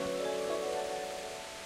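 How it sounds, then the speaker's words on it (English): Steady rain in the medieval video game Kingdom Come: Deliverance, a constant hiss of falling water with a low sustained tonal layer underneath, even and unbroken throughout. "It's raining and you're just getting wet."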